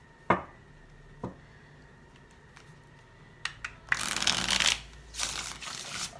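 Tarot cards being shuffled up close: a few sharp isolated taps and flicks, then a dense riffling burst of cards that fades into softer rustling, with no talk.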